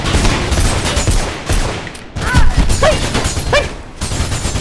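Rapid bursts of machine-gun fire in the first-person game Mirror's Edge, loud and close, with rattling volleys broken by brief gaps and some sharp metallic pings.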